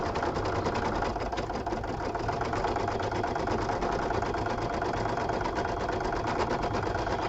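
Embroidery machine stitching a Valentine card in the hoop, a steady, dense mechanical whir with fast rhythmic needle chatter, running continuously and loud up close without pause.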